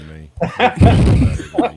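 During a podcast interview, someone sneezes loudly and close to the microphone, a single breathy burst surrounded by brief voiced sounds.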